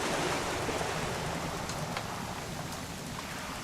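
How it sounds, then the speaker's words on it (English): Rain in the video game What Remains of Edith Finch, a steady, dense wash of falling drops at an even level, with no voices over it. "It's gonna rain the whole weekend,"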